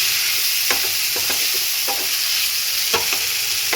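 A small tomato goes into a pan of sizzling bata fish curry, giving a loud, steady fry hiss close up, broken by several soft stirring scrapes and clicks.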